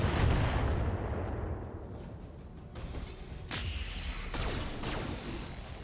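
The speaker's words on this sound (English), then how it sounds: "Decker gets peppered by a whole bunch of machine gun fire." Dense, continuous bursts of machine gun fire and heavy impacts in the mech combat game BattleTech, loud and sustained throughout with rumbling booms layered underneath.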